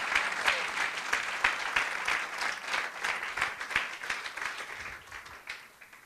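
Church congregation applause during a Spanish-language sermon, a dense continuous wash of many hands clapping at moderate distance, steady throughout and tapering off near the end.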